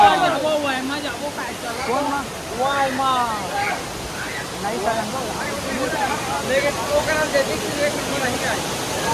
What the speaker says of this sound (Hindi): फुल पानी गिरा